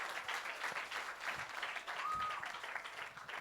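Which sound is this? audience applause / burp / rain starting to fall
audience applause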